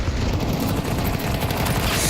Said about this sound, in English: Headshot versus Rops to get back that mid control